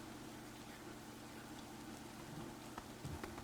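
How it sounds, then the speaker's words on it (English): Rain falling in the video game Minecraft, Prominence 2 modpack, a faint, steady hiss with soft scattered patters throughout, no talking. "Might as well stop this rain"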